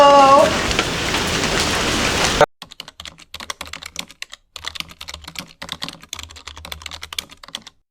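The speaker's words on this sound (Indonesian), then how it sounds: "Hujan juga. Ayo kita masuk ke dalam." Steady rain falling outdoors on a night location shoot, a dense wash of drops at first, then sparser, patchier patter with low rumbles after a sudden drop in level.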